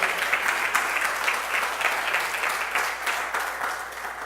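Church congregation applauding during a Friday service, a fairly soft, continuous wash of many hands clapping with slight rhythmic pulses, heard alone.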